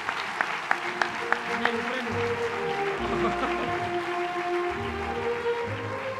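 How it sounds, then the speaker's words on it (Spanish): Applause from the audience at a Lugo sports awards gala, with a few sharp claps early and then sustained clapping running under a speaking voice and low sustained music. "Ese aplauso para Manel Sánchez"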